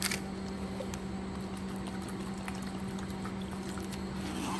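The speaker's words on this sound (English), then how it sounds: "So I'm gonna empty out our bucket here." Water poured out of a bucket, a soft continuous splashing pour at low level over a steady background hum, with no voices.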